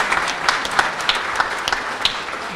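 An audience at a ribbon cutting for a new college science wing applauds, a dense, even wash of clapping with a few sharper individual claps standing out, steady for the whole stretch.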